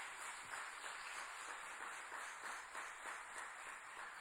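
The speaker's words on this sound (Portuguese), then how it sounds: "Dê uma forte salva de palmas para Jesus." Church congregation applause during a Celebration Family service, a faint, distant wash of steady clapping with no voices standing out.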